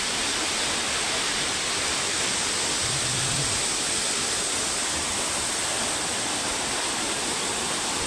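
A waterfall at a Harishankar temple pours in a loud, unbroken roar of rushing water, steady and close for the whole stretch.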